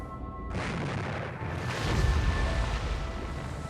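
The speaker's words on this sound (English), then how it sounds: "Now for the explosion." A World War II depth charge explodes while attacking a submarine, a dull heavy boom that swells into a deep rumbling roar of churning water, loud and sustained for several seconds.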